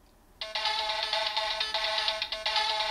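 An incoming-call ringtone from a DX Shiny Kiramei Changer toy starts after a brief pause and chirps in a bright, pulsing electronic pattern, with repeated short beeping bursts close to the device.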